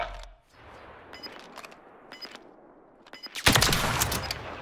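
Sniper rifle fire in a video game, a loud broadband blast near the end following several short sharp cracks and scattered game noise earlier, with no talk.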